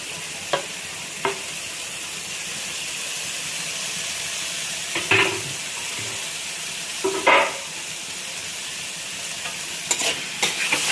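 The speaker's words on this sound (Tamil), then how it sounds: "இப்போ கருவேப்பிலை, கொத்தமல்லி, கேப்சிகம் இதெல்லாம் போட போகிறோம்" Capsicum, curry leaves and coriander stir-fried in a hot pan for paneer fried rice, giving a steady close sizzle with a few louder scraping stirs of the spatula, no talking.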